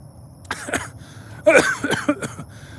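A man coughs several times in short harsh bursts, close and loud, with a throat-clearing rasp, while recovering from cancer surgery.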